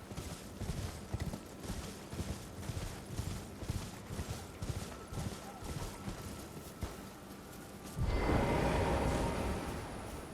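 Galloping horse hooves in the video game Elden Ring pound in a steady, rhythmic beat for about eight seconds before a louder, dense rush of noise takes over at the end.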